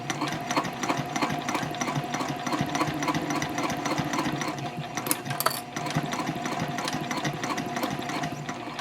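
A sewing machine stitching piping around a curved bag panel, a fast rhythmic mechanical whir with even needle ticks and a brief pause midway.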